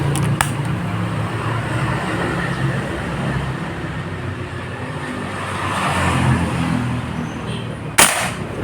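Yumaja Sempiternal air rifle fired at a target: a faint short crack near the start, then a sharper, louder single report near the end over a steady low rumbling background.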